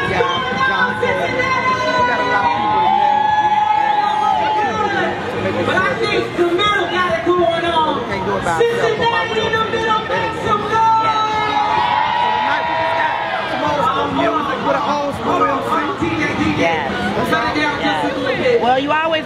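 Dense party crowd at an all-white event in Cincinnati, a continuous roar of chatter and babble with scattered cheers and whoops, loud and close, with people talking throughout.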